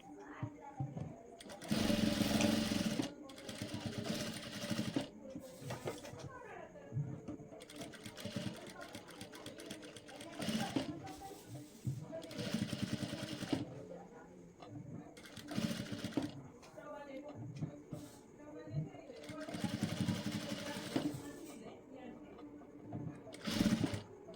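A sewing machine stitches a blouse neckline in bursts, its rapid mechanical whirr starting and stopping repeatedly close to the microphone, with someone talking in the pauses between runs.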